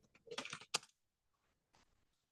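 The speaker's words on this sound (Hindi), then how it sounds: "मैं यहाँ लिखता हूँ gate config user dot name" A short burst of quick computer keyboard keystrokes typing a git config command, a tight cluster of clicks followed by a pause and a couple of faint later taps, close and quiet, with no talk.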